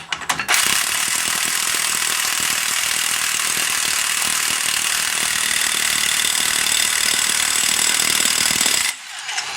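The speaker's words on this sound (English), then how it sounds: "we can go ahead and torque up our axle nut" A ratchet wrench tightens the axle nut on a Subaru GL, its pawl clicking in a rapid, steady, loud burr close by for about eight seconds before stopping abruptly.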